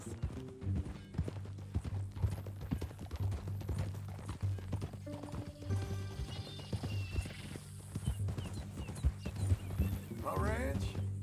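Horse hooves clip-clopping at a walk in the video game Red Dead Redemption 2, a steady rhythmic clopping that runs under voices talking and background game sound.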